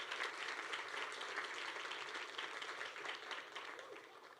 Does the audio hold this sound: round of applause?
yes